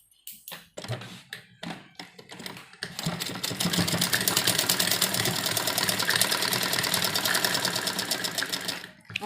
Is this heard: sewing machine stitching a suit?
yes